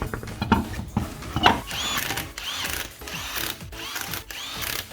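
A power tool runs wheel nuts onto a Toyota Camry XV10 during a suspension job, with repeated whirring, buzzing bursts and mechanical rattles close by in an intermittent rhythm.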